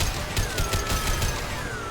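Rapid, sustained gunfire in Mass Effect 2 as a weapon is fired at a tube, a dense, continuous burst of shots with a close, loud clatter and a faint whine running through it.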